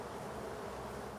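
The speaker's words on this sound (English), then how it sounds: "One of Norbert Maudois' special skills is raising queen bees" Honeybees at hives kept for raising queen bees buzz in a steady, dense drone that stays close and continuous throughout, with no voices.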